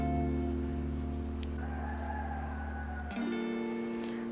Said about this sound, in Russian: Я надеюсь, вы слышите прекрасным образом тех петухов, которые поют где-то вдалеке